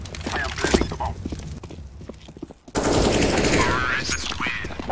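Gunfire from a bomb-planting tactical video game crackles in rapid bursts of sharp shots, first dense and close, then a busier, louder stretch after a brief gap, with a voice talking over it.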